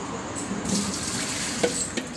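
Water poured from a bucket splashes steadily into a container, a continuous close rushing sound with a small clunk near the end.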